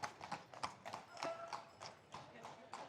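Horse hooves clip-clop steadily on a street in Bruges, Belgium, a brisk repeating rhythm of hard strikes, fairly close, with voices talking over it.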